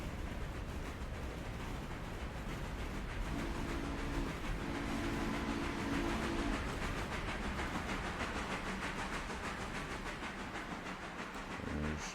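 A Berkshire steam locomotive hauling a long train rolls past in the Railroader video game, a steady rumbling, hissing chug with a brief whistle tone midway, continuous and fairly loud throughout.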